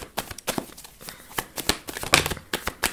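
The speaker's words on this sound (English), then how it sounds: "Let me just shuffle out some of these cards." Tarot cards are shuffled close up in quick irregular riffles and slaps, a crisp papery flurry with no talking.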